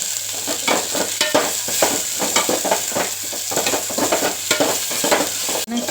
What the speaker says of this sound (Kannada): ಇದನ್ನು ಈ ಥರ ಒಗ್ಗರಣೆ ಮಾಡ್ಕೊತೀವಿ